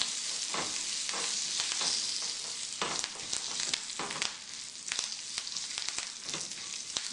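Curry leaves dropped into hot oil for a coconut chutney seasoning, crackling and sizzling loudly and continuously at close range, with sharp popping bursts throughout.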